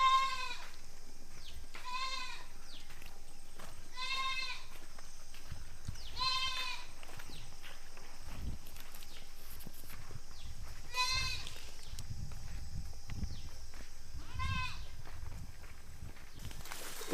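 Young goat kids about one and a half months old bleat repeatedly on a farm, close and clear, with bursts spaced a second or two apart over scuffling hooves and faint background voices.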